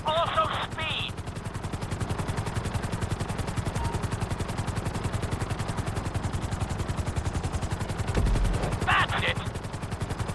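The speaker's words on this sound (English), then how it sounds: "we'll see how well you handle the chopper" A helicopter in Grand Theft Auto V during a flight school course, its loud rapid rotor chop steady throughout, with brief radio-like bursts near the start and end.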